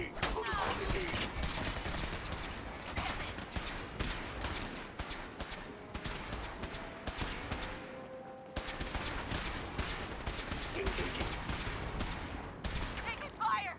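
Repeated bursts of combat gunfire from Fallout 4, loud and close, rattling in rapid volleys with a brief lull midway, accompanied by shouted voices.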